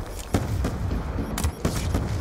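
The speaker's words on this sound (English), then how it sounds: "There's a lot of explosions going on." Repeated sharp blasts and booms crackle over a constant rumble, like game gunfire and explosions going off in quick bursts.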